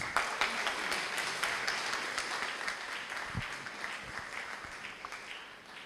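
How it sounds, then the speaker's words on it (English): An audience at a Universal Brotherhood Day 2023 event claps continuously, dense and fairly distant, fading slowly as a speaker is welcomed. "Big round of applause, please."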